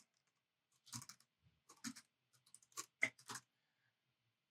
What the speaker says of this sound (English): the quickest way is just to go ahead and type in their email address